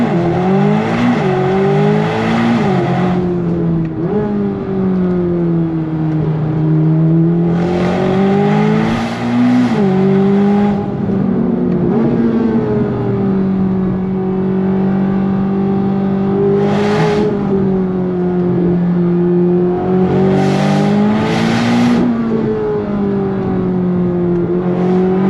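A 2026 C8 Corvette ZR1 launches from the line with its engine roaring loud and close through a long run of acceleration. Rising revs break off sharply at each gear change as it keeps pulling hard, with no talking over it.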